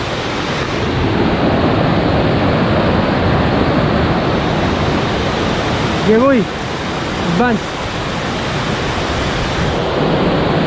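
Steady broadband rush of Vera Falls on Mt. Malinao, Albay, roaring continuously throughout with a brief spoken voice and a couple of short vocal calls over the water noise.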